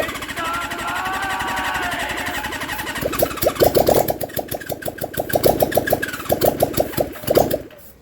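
A Suzuki GS750 motorcycle engine cranks and fires up after being rewired and run without carburetors, sputtering loudly and unevenly into rough, stuttering running, close and dominant with no talk.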